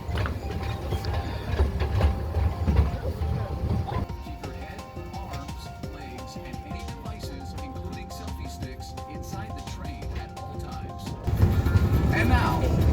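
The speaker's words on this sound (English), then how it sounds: "Here I'm going to show a video of the train at Dole Plantation." Tourist train ride at a Hawaii pineapple plantation: a steady mechanical rattle with clicking, ratcheting rhythm runs throughout, louder and rumblier at the start and end, with voices mixed in.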